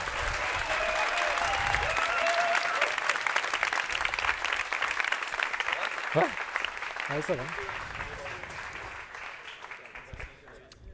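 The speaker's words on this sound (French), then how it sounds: "on peut les applaudir très très fort" Audience at a medical simulation competition match giving loud sustained applause that gradually fades toward the end, with a few voices talking over it.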